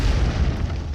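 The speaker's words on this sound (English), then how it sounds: "a colossal explosion shattered the calm" A colossal explosion in a mobile game trailer set around a mine: a loud, rumbling blast that roars with heavy low-end for the whole second without letting up.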